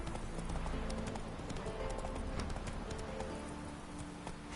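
Roach the horse trots in The Witcher 3 with steady, rhythmic hoof clip-clops under ambient game sound, close and continuous throughout the clip.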